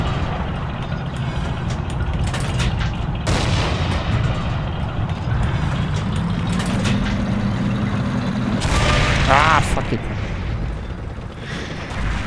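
Wartime gunfire and vehicle rumble in the Forgotten Hope 2 Siege of Tobruk battle, a dense continuous roar of engines and shots with a louder burst near the end.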